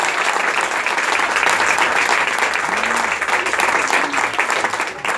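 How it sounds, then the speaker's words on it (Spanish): A church congregation claps hands together in a loud, continuous wash of applause that holds steady from start to finish, with faint voices mixed in. "Alguien le puede dar palmas al Espíritu Santo de Dios."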